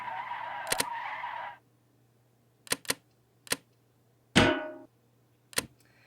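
A monorail in the game Stormworks docks with its station charger: a low hum and buzzing tone cut off, followed by a series of sharp mechanical clicks and a short tonal clunk.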